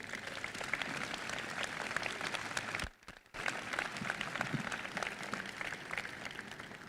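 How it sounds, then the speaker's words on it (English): Sustained audience applause at the grand reopening ceremony of the Soldiers Memorial in St. Louis, a dense wash of clapping that dips briefly near the middle before resuming at full strength. "I think 5 generations of service to the United States deserves another round of applause"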